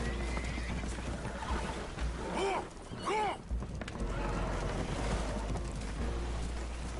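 Horses neigh in Red Dead Redemption 2, with two shrill spooked whinnies mid-clip aboard a leaking boat, under steady wind and water noise with faint voices.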